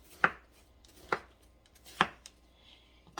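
A knife cuts down through a watermelon on a board, giving four sharp, separate thunks spaced about a second apart, close and clear with no voices.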